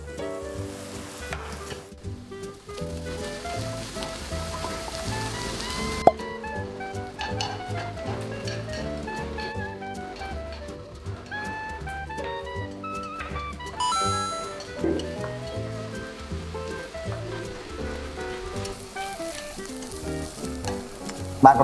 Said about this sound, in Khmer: ខ្ញុំឆាវាទាំងអស់